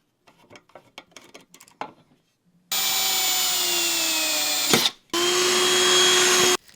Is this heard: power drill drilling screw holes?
yes